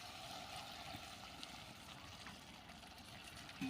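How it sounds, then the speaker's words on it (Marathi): Hot water is poured into a pan of vegetable curry cooking over the stove, a quiet steady trickle and splash that runs continuously at low volume. "आणि आपण आता जे गरम पाणी केलं होतं ताटामध्ये ते टाकायचं आहे."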